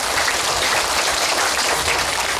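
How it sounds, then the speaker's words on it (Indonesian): A church congregation at a Divine Mercy Eucharist in Bethlehem claps together in dense, steady applause that fills the space evenly for a couple of seconds, with no voices heard. "saya minta tepuk tangan yang luar biasa untuk kita semua"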